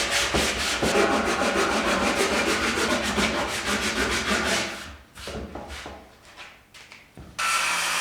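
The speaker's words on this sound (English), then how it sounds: "Bust out the sandpaper." Sandpaper rubs steadily across a homemade wooden climbing hold in rapid back-and-forth strokes, close and continuous for about five seconds, then a few slower scrapes and a brief final burst of sanding.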